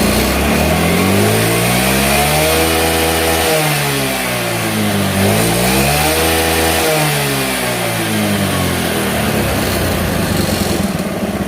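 A carbureted Honda Beat scooter engine held at high revs, a steady loud whine with rising and falling harmonic sweeps, close by, no voices.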